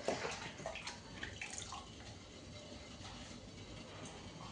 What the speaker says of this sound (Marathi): आपण स्वच्छ पाण्याने धुवून घेऊ